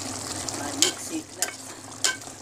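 Thick curds and ground masala for shahi chicken get stirred in a pan, a soft sizzle running underneath while a spoon scrapes in three or four distinct strokes, close and fairly quiet.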